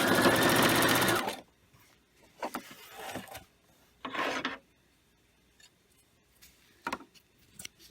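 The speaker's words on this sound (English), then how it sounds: "I'm going to start sewing. Then I'm going to back stitch" A sewing machine stitches a fabric snack bag, a loud rapid whir for over a second, then shorter back-stitch bursts and a few handling clicks between pauses.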